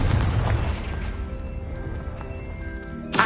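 A blasting-spell explosion, a heavy booming burst that rumbles and slowly decays over about three seconds, followed by a sharp new burst at the very end, loud with no talking.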